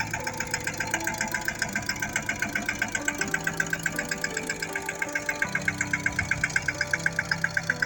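A steady tractor engine chugs with a regular rapid knocking rhythm, running continuously at close range on a farm with no talking.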